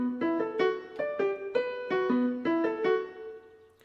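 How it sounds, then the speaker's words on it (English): Melodic guitar riff, clean plucked notes in a quick, repeating pattern, bright and close, played alone without any talk. "you've got a melodic or tuneful guitar riff"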